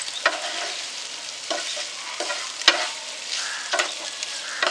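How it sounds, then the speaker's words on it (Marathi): Potatoes for a dry Maharashtrian bhaji sauté uncovered in a pan, making a soft continuous sizzle broken by several sharp stirring scrapes and clinks of a spatula, close up and without talk. "झाकण ठेवलं तर हे बटाटे पूर्णपणे स्मॅश होऊन जातील, म्हणून हे असेच परतवून घ्यायचे आहेत"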